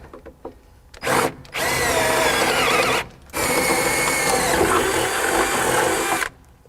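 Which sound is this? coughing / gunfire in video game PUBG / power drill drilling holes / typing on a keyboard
power drill drilling holes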